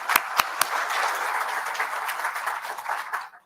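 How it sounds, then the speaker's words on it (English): An audience at a history lecture about the Grace Sherwood witch legend applauds, starting with a few sharp, distinct claps that blend into a dense, steady round of clapping before it fades out. "Let's give them a round of applause."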